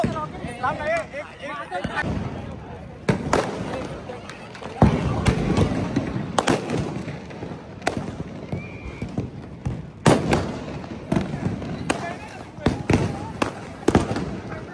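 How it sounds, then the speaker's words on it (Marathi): Diwali firecrackers go off in a string of sharp, loud bangs at irregular intervals, some close and booming, with people talking and shouting between the blasts. "फटाके संपले."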